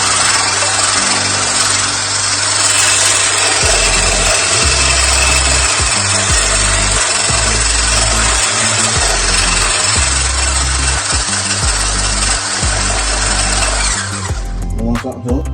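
An electric mixer whisks flour, bicarbonate of soda and baking powder for a sticky toffee pudding, giving a loud, steady whir with a pulsing low rumble that runs about fourteen seconds before cutting off.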